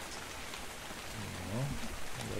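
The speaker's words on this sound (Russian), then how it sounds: "Дождик." Rain in the survival game Dark and Light, a steady hiss of falling drops that stays fairly constant throughout, with some low rumbling and tonal game sounds rising near the end.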